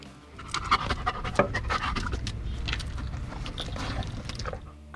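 A police dog pants rapidly and steadily at close range during a scent search, the quick breaths loud and continuous with faint outdoor background and no talking.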